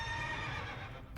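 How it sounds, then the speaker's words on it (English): A game horse gives a loud, close whinny that lasts about a second and rises and falls in pitch, with no talking. "Horsey."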